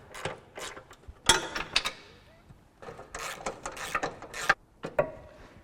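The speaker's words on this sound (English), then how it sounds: "so at least I can now start tightening things up" Ratchet or spanner clicking as bolts are tightened on a Range Rover, bursts of sharp metallic clicks in quick runs separated by short pauses, close and fairly loud, no talk.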